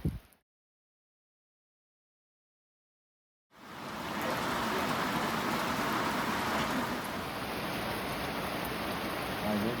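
Heavy rain pours down at a mountain shelter on a thru-hike, starting abruptly after a brief sound and a few seconds of silence, then holding as a dense, steady hiss.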